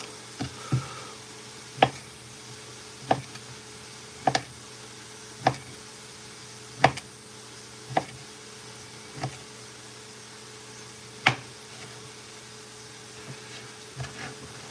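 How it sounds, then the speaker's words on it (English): Sausages being chopped on a cutting board, a slow irregular series of sharp knife taps over a faint steady background hum, no voices. "Let's cut up these sausages."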